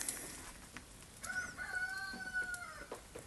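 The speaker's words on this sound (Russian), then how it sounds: "Петухи поют." Roosters crowing at 3 a.m. in early morning light in East Kazakhstan, with one fairly distant rising-and-falling crow and faint clucks over quiet rural background.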